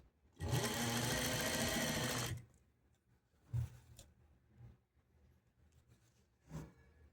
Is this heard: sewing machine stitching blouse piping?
yes